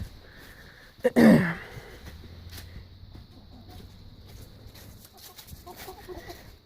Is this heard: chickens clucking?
yes